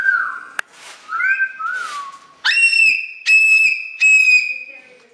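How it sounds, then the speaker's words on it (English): Loud, shrill whistles from a cockatoo ring out close by in the Arizona desert, including rising-and-falling wolf-whistle calls repeated several times with short pauses between. "He does that wolf whistle good."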